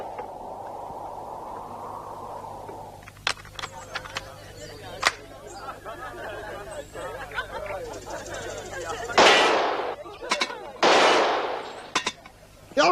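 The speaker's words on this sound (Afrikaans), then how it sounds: "Elke skoot was 'n treffer." Gunshots in an animated series: a handful of sharp cracks scattered among talk and background sound, followed by two louder, longer blasts near the end.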